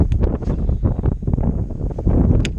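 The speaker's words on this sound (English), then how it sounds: "when it's windy like it is right now" Gusty wind buffets the microphone in loud, uneven rumbling bursts, with some rustling mixed in and no voices.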